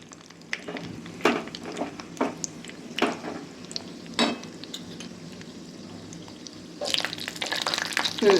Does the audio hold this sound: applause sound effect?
no